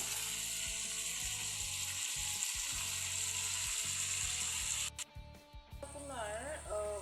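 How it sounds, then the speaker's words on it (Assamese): Duck meat fries in a pan for a duck curry with ash gourd, giving a loud continuous sizzle with scraping stirs. The sizzle drops away near the end, and a voice is heard. "অলপ টাইমৰ কাৰণে মাংসটো অকণমান 5 মিনিটৰ কাৰণে এনেকৈ সিজিবলৈ দিম।"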